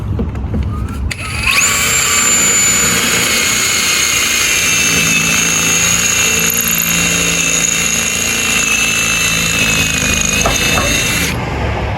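A truck passes close by, a loud sustained roar with a high whine that builds quickly, holds for about ten seconds, then cuts off; a voice speaks briefly near the end.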